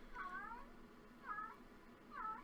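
A female cat in heat yowls three times in drawn-out, wavering calls spaced about a second apart, faint and somewhat distant in a quiet room.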